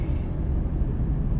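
A road traffic jam with trucks and motorcycles in the Philippines sits as a steady, low rumble of idling and creeping engines. It is heard from inside a vehicle, without distinct passes.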